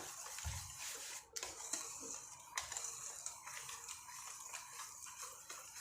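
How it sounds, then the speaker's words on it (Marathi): Faint clinks and soft scraping of a utensil in a bowl as wheat flour dry fruit cake batter made with homemade butter is mixed, quiet and close with no talking. "आता हे छान मिक्स करून घ्यायचं"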